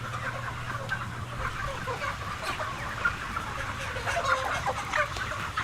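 Chickens on a factory farm cluck and murmur continuously, many birds close together, over a low steady hum of barn machinery.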